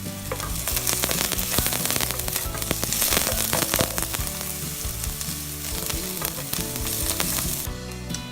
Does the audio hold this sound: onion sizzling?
yes